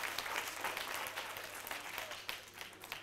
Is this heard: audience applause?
yes